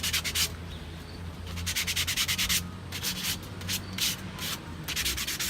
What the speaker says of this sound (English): this sandpaper is really doing its job